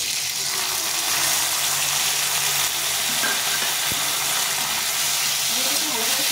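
Tomatoes with green chilli and ginger paste fry in a pan, giving a loud, steady sizzle and hiss that runs unbroken throughout, with a faint clink partway through.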